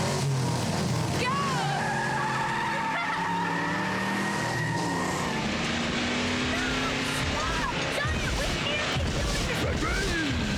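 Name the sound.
cars in a drag race, from animated film The Iron Giant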